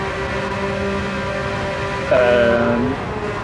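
Race cars, including a Porsche 992, drone steadily in a racing video game. The engine tones hold level and fairly loud, then jump in pitch partway through as another car roars in close. No one speaks.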